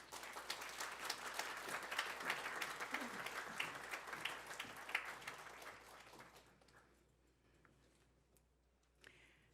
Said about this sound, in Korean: 큰 박수로 맞겠습니다.